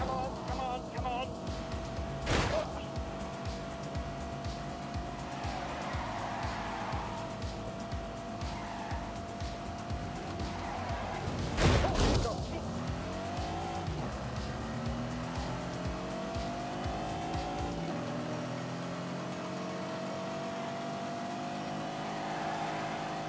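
A Lamborghini races hard in The Grand Tour video game, its engine note climbing and falling through gear changes with tire squeal and a loud impact midway, then a steadier high whine near the end under occasional excited talk.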